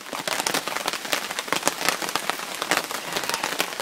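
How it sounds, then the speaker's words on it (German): Steady rain pattering on a surface, dense and continuous with scattered sharper drops close by, no voices. "Ihr hört, es regnet ein bisschen."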